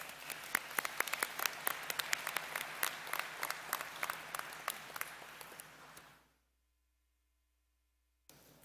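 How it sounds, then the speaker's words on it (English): A crowd at a nursing graduation and pinning ceremony breaks into steady, dense clapping that carries on for about six seconds, then fades out and cuts to silence, with a brief resumption at the very end. "I think they deserve a round of applause"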